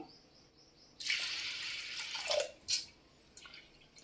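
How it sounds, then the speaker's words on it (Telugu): Water pours into a pot of soaked dal for pappu charu, a splashing gush that lasts about a second and a half, then a few shorter splashes and drips follow close by. "ఇప్పుడు కొన్ని వాటర్ వేసుకుందాం"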